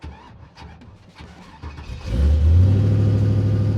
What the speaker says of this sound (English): I'm gonna switch on the car